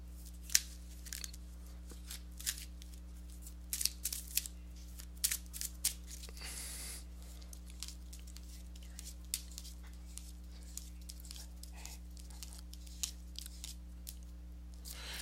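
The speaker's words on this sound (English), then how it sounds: "let me go ahead and give these cards a shuffle" A deck of tarot cards being shuffled by hand, heard as irregular crisp flicks and riffling taps over a steady low hum, close and fairly quiet.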